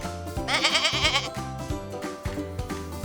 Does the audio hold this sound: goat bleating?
yes